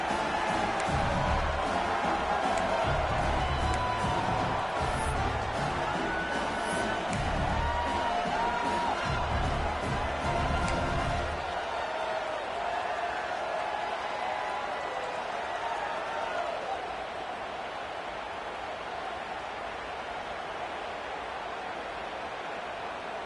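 Loud stadium crowd in the NCAA 25 college football video game cheers and whoops after a touchdown, a dense roar that eases partway through into a softer sustained crowd murmur, with no talk over it.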